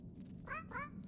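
A cat meows twice in quick succession inside a horror video game, two short rising cries standing out over a steady low rumble of ambient game noise.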